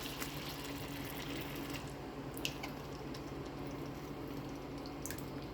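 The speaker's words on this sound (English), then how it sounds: "I'm gonna pour the pasta sauce on here." Homemade pasta sauce poured over meatballs cooking for spaghetti, a soft continuous wet glugging and squishing with faint drips over a low kitchen hum.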